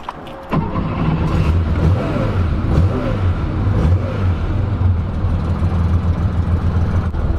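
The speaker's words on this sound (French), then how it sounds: "Donc le démarrage impeccable, à savoir que sur ce moteur là c'est des carburateurs." A 1982-based Porsche 911 backdated to 2.3L ST spec with a carbureted engine cranks briefly, catches and starts, then settles into a loud, close idle with several rising and falling revs.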